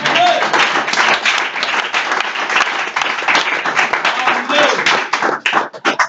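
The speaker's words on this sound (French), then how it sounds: "Je veux que quelqu'un applaudisse." Applause in a church gathering, many hands clapping in a busy, uneven patter with voices calling out over it, thinning toward the end.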